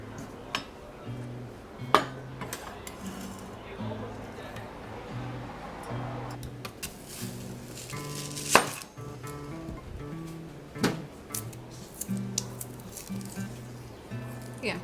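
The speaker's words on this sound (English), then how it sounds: "You can make your jalapeno into a few little strips." A knife slicing a jalapeno into strips on a board while making guacamole, giving a few sharp chopping taps spread through the clip, moderately close, over steady background music.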